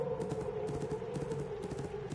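Horse hooves in the video game My Little Riding Champion, a quick rhythmic clip-clop of galloping steps over a droning background, moderately faint and without talk.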